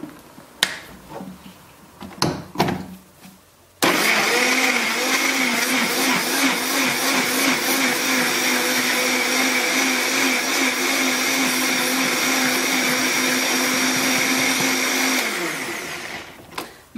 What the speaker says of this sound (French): Et puis, on va mixer tout ça.